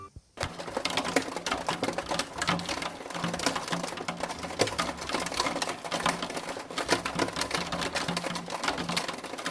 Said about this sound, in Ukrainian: Вірно, це град.